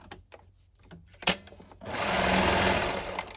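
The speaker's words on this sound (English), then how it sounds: "let's go sew that, and then switch the thread for my black and then sew these up" After a quiet moment and a single sharp knock, a sewing machine starts up and runs steadily up close, stitching the seams of a pair of pants, with no voices.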